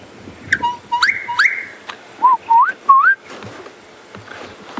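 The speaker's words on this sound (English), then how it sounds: "That is the gorgeous bushshrike. Very beautiful bird. And it's also got a lovely call." Clear whistled calls of a gorgeous bushshrike, a few sweeping liquid notes repeated in short phrases, fairly close, over faint background rustle, at Djuma Game Reserve in South Africa.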